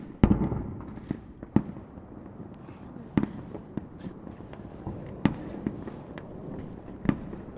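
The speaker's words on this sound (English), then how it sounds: "Those are the fireworks, actually." Scattered sharp pops and bangs at a distance, irregular and fairly quiet, with soft background murmur between the reports.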